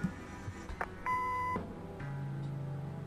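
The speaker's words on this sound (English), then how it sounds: "Leave a message after the beep." A single clear electronic beep holds for about half a second, like an answering machine tone in the video game Kathy Rain, followed by a low steady hum.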